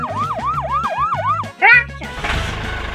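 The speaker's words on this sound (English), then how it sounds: "Ambulance." An ambulance siren wails in a rapid, regular up-and-down sweep for about a second and a half, loud and close, followed by a brief voice and a noisy burst.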